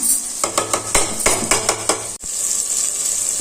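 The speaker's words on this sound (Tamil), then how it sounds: "கொஞ்சம் தக்காளி வதங்கட்டும்" Tomatoes sautéing in a pan for chicken biryani, with a steady background sizzle and repeated scraping clinks of a utensil against the pan at a brisk rhythm, close and fairly loud, then a brief break.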